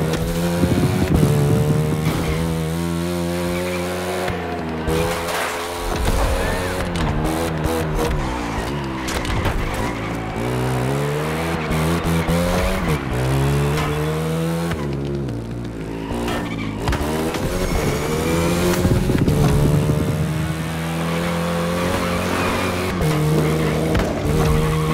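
A motorcycle chase in the racing game The Crew Motorfest, with loud, continuous engine revving that rises and falls through gear changes, plus tire squeals and skids, all without talk.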